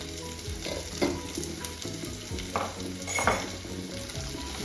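Onions for egg curry fry in a pan with a constant crackling sizzle and a few soft stirring scrapes, heard up close and alone.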